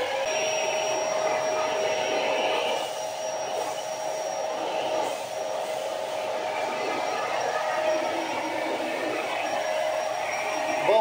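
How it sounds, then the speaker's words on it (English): A small Hoover Evo Sprint vacuum cleaner runs steadily while emptying a beanbag, giving a continuous loud motor roar with a thin high whine held throughout, with no voices. "First one to get a go is the little Hoover Evo Sprint."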